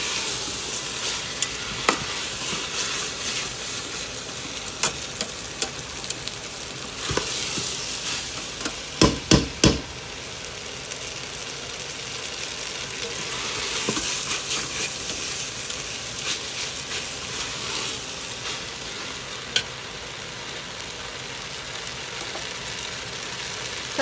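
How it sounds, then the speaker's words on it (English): Salt fish cook-up rice with spices frying in a pot, a continuous sizzle with occasional scraping stirs and sharp clinks of the spoon against the pot. "So I'm just frying everything up and let everything combine together."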